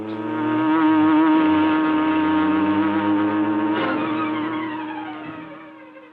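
A big, sleek black car pulls away and drives along behind someone in an old radio drama, its engine a loud, steady roar that swells and slowly fades, with a brief tire-skid accent partway through and no talking.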